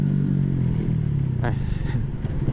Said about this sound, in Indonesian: Ya coba kita tanpa rev matching nih.